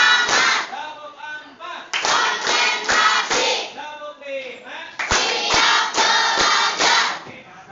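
A classroom group of students clap on a teacher's count, sharp hand claps landing in short bunched bursts, one, two, then three sets, mixed with voices and chatter throughout.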